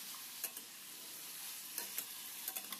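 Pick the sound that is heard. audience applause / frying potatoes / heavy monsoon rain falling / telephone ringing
frying potatoes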